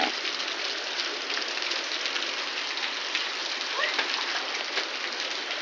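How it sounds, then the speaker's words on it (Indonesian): Steady rain patters on surfaces outdoors, a dense, even hiss that holds at moderate level throughout, with faint voices of children playing in it somewhere beneath. "Aku lagi main hujan."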